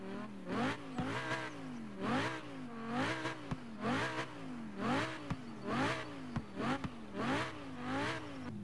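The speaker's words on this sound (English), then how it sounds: "let's listen to the sound of the revs" A Lamborghini Gallardo Performante in Forza Horizon 4 revs repeatedly while stationary, about a dozen sharp rising-and-falling engine bursts in steady rhythm, loud and close with no talking.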